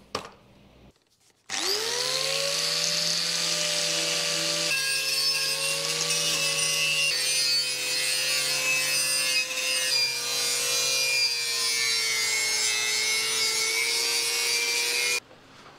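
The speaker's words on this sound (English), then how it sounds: "First, we're gonna try and hit it with a simple wire wheel." A power-tool wire wheel scrubs surface corrosion off a car exhaust muffler, a loud, sustained whirring grind after a brief spin-up, holding steady for over ten seconds before cutting off.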